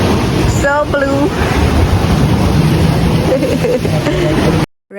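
Ocean surf at Sea Garden Beach Resort in Montego Bay, Jamaica, a steady loud wash of waves mixed with wind buffeting the microphone, with bits of voices in the background.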